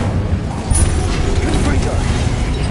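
Incendio fire spell cast in a video game, a dense rumbling, crackling burst with mechanical clatter that holds steady and loud for a few seconds.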